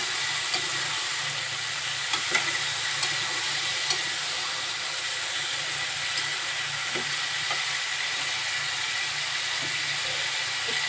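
Bottle gourd frying with spices in a pan, a steady close sizzle and hiss with faint scraping stirs throughout.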